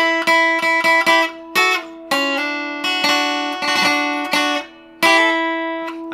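Requinto guitar playing a riff, a short part repeated four times. Bright, close plucked melodic notes come in quick phrases separated by short pauses, clear and alone with no talking.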